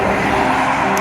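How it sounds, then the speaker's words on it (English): A car passes close by outdoors with steady, broadband tyre and engine noise that fills the whole moment and holds constant, with no talking. "We'll let the car go by."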